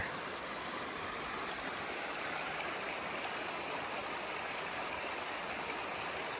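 A mountain creek in the Big Ivy community rushes steadily after Hurricane Helene flooding, a constant broad wash of flowing water with no voices.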